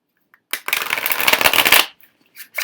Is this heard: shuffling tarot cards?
yes